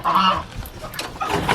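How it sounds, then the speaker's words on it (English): Geese on a mixed farm honk loudly and close by, several overlapping nasal calls in quick succession over a short burst, with no speech. "Guys, we have geese here."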